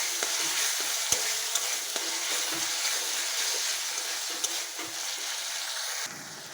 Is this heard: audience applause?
no